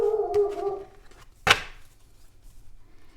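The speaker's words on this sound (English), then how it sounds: "Such a big bark for such a little boy." A small dog lets out a loud, drawn-out howling bark, followed by a sharp single yap, close by and alone with no talking.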